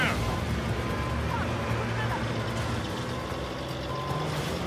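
Truck engine rumbling low and steady with a repeating reversing beep during a downhill chase in Uncharted 4, over a constant din with voices talking.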